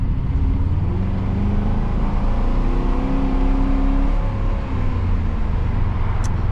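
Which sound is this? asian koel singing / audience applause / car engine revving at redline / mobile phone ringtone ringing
car engine revving at redline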